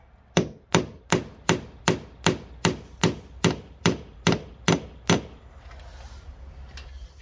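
Hammer blows drive a punch through stucco for a gutter installation, about twelve sharp, evenly spaced strikes in quick succession, loud and close, then quiet room tone.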